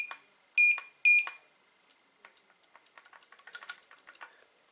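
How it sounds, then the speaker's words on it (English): Two short electronic beeps from an OTIS elevator call button when its bottom micro switch is pressed, followed by a run of soft clicks and taps. Close and fairly quiet, with no talking. "If you hit the bottom micro switch, it beeps"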